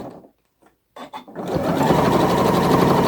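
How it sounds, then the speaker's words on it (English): A sewing machine stitches along zip tape close to the edge, starting after a few faint clicks and then running steadily at a fast, even buzz to the end. "Sewing quite close to the edge at the minute"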